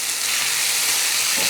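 Halved cherry tomatoes cook in a hot pan with a steady, bright sizzle and hiss, close and continuous, without talk.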